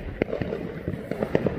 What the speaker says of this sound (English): Oh, look, there's some over there.